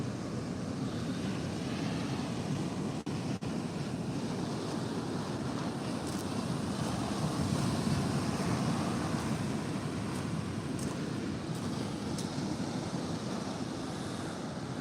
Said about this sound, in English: And the waves are kicking.